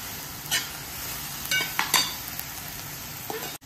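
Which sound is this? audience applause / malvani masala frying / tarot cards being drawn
malvani masala frying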